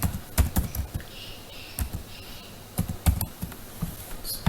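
Someone types product information on a computer keyboard. Brisk, irregular clusters of close, crisp key clicks fill the room, with short pauses between bursts.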